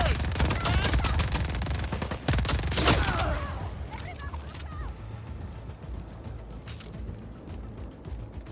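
Bursts of gunfire in the video game Just Cause 4 rattle out loud and close at the start, then thin to a few sharper distant shots with mechanical clicks, while a voice talks over part of it.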